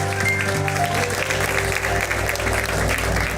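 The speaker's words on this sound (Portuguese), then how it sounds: "Dá um aplauso." Congregation applauding during a Sunday service at Life House Church in Orlando, a steady wash of clapping alongside sustained music.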